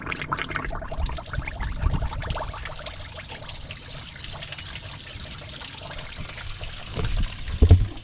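Water from a garden hose pours steadily into the cooling system of a 1967 Pontiac Firebird during a coolant flush, a continuous splashing trickle with a few louder gurgles near the end.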